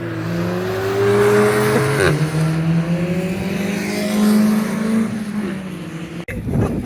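A Vauxhall Astra VXR on track at Donington Park during a track day sweeps past with a rising and falling engine note, loud and close, shifting pitch as it goes by and fading out.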